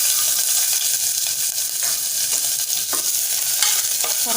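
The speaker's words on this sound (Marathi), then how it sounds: "मीडियम आकाराचा कांदा बारीक चिरून घेतलाय, तो घालूया फोडणीला।" Finely chopped medium onion sautéing in a hot curry-leaf tempering inside a pressure cooker, a dense close sizzle with the scrape of stirring at intervals and no talking.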